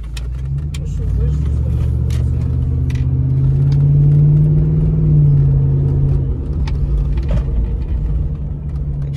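A pickup truck on new tires cruises along city streets, giving a steady low road rumble and engine drone that swells briefly mid-way before settling, with a person talking over it.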